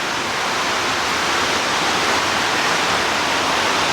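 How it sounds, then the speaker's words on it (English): Heavy rain pours outdoors in a dense, unbroken hiss that stays loud and even throughout, close around the listener with no voices. "Very excited about this rain."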